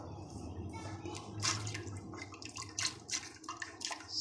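Soaked chana dal and water poured into a pressure cooker, giving an uneven run of splashy, trickling bursts that rise and fall over several seconds, fairly close and moderately quiet.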